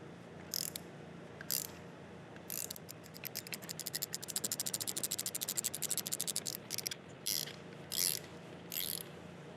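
Hand wrenches ratchet on Harley-Davidson Dyna chain drive conversion parts, giving short bursts of fast metallic clicking and one longer run of rapid clicks, close up with no talking.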